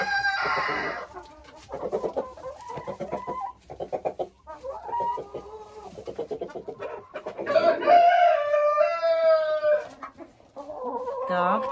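Hens clucking around a rooster in a backyard flock, with repeated bursts of clucks and a louder, drawn-out call near the end; nearby and fairly loud, continuous through the clip.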